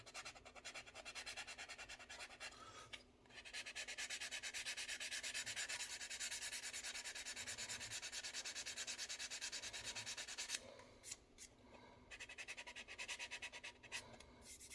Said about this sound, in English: I'll just use a little sanding block I have here